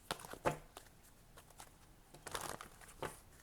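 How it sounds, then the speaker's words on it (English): Tarot cards being shuffled by hand, with soft close crinkly riffling bursts and light patters, faint and uneven. "let's get a couple more shuffles"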